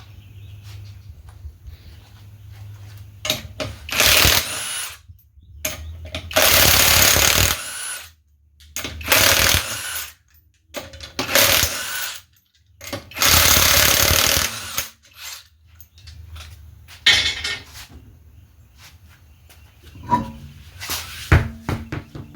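Lug nuts being removed from the wheels of a Fox Body Mustang with a power tool: repeated loud, close bursts of a few seconds each, separated by quieter gaps with clanks and handling noises.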